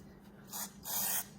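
Spray adhesive hissing from an aerosol can onto sheet metal in a taxidermy workshop, two short bursts, the second longer, fairly quiet over a low steady hum.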